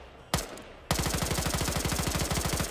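Video game gunfire in a competitive match: one sharp shot, a brief pause, then a loud continuous full-auto magazine dump of rapid, evenly spaced rounds lasting nearly two seconds, close and with no voices.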